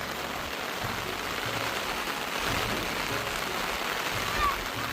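Steady, even hiss of rain falling, continuous and moderately loud with no breaks.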